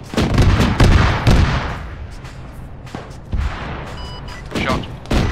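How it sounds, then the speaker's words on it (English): Danger-close high-explosive artillery rounds land in a video game, a run of loud, close blasts and cracks in quick succession, each trailing into rumbling decay, with brief radio voices between. "Fire mission's gonna be coming in danger close, danger close. Three rounds HE for now."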